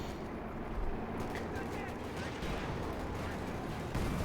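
Gunfire and explosions in Company of Heroes 2, with bazooka and anti-tank rifle grenade fire in a battle between Wehrmacht and US forces: dense overlapping shots and blasts, loud and continuous, under a caster's commentary.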